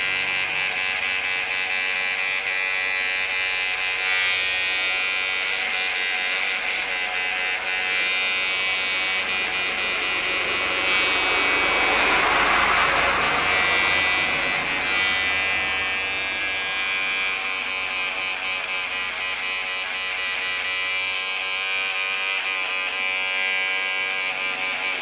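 Electric hair clipper buzzing steadily close up while leveling a skin fade haircut, a continuous high whine that swells slightly midway, with no talking.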